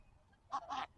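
Two quick nasal honks from a duck or goose in close succession, moderately near against a quiet background during a stormy day.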